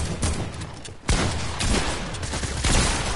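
Gunfire from the video game Fortnite, a burst of rapid shots with sharp onsets, including a loud hit near the middle and another near the end, over a busy game mix.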